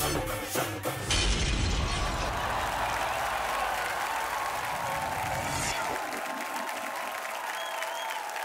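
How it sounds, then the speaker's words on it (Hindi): A large TV studio audience bursts into loud, sustained applause and clapping after a song performance on a talent show, a brief crash at the start, then the clapping fades gradually. "जोरदार तालियां"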